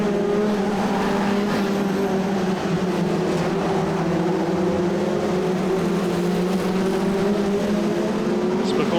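Saloon stock cars racing round the Cowdenbeath oval during European championship heats, a dense continuous engine roar with steady droning tones from several cars at once, loud and unbroken throughout.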